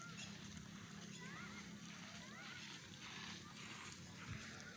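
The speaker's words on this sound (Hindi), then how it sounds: "इधर लगा हुआ है एक पानी का और फुहारा" A water fountain in a park splashes steadily, a constant wash of falling water, with faint voices of people and children talking in the background.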